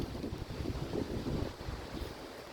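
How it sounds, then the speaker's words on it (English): Wind gusting through a home garden with apple, cherry and grape trees, a steady rushing buffet with microphone wind noise swelling and easing throughout, no talking. "It's a bit of a windy day today,"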